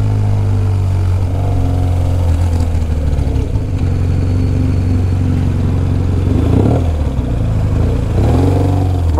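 A 1200 cc motorcycle carries a rider and passenger, its engine droning steadily and close with a couple of short rising revs near the end, no talk over it.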